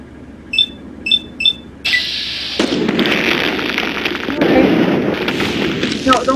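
Gunfire in a video game: after three short beeping tones, loud sharp shots burst out and merge into a sustained noisy clatter of firing and impacts, with a voice talking over it.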